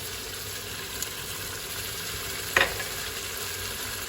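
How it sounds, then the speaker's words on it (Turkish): Tomato paste and spices, red pepper and chili flakes, frying in a pan with a soft, steady sizzle under a constant hiss, broken by one sharp utensil clink against the pan midway and a fainter tap earlier. "Salçayı da 2 dakika kadar kokusu çıkana kadar kavurdum."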